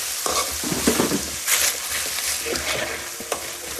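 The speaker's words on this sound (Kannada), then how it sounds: "ಇದನ್ನ ಚೆನ್ನಾಗಿ" Oyster mushroom masala with chili powder frying and being stirred in a pan, a close continuous sizzle with scraping stir strokes.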